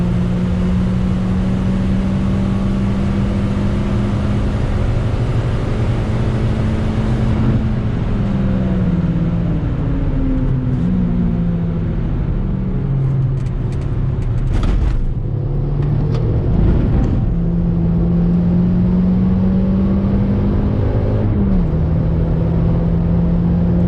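A Toyota Yaris being pushed hard on the icy Donington Park race track, its engine droning steadily near and loud and rising and falling in pitch through gear changes and corners, with no voices.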